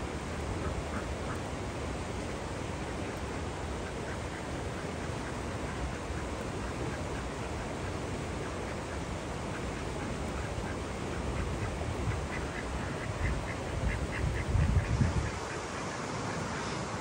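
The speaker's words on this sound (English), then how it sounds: "They're under the bridge. Ducks!" Ducks quack faintly under a bridge over a constant broadband rush of moving water, with a slightly louder burst of activity near the end.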